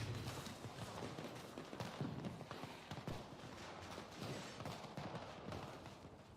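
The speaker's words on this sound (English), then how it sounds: "where you'll be given a little fireworks show" Fireworks in the video game Dying Light: The Beast crackle and pop in rapid, dense bursts, distant-sounding and fairly faint, continuing steadily with no talk.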